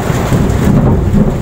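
Low thunder rumbles beneath steady heavy rain drumming on a nearby roof, a continuous loud wash with no voices.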